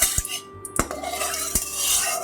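A utensil scrapes and knocks against a hot kadai while hot oil is spread around it before fish is added. Three or four sharp metallic clinks stand over a soft, close background.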